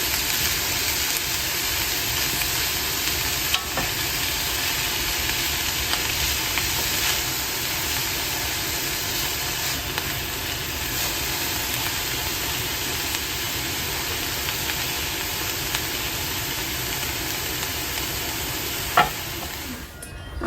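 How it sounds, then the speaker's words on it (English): Diced vegetables sautéing in a pot over medium heat while making homemade potato soup, a continuous even sizzle and crackle with a faint steady hiss throughout and a brief clunk near the end, no voices. "we just have our veggies here over some medium heat, and we're just gonna let those kind of saute a minute"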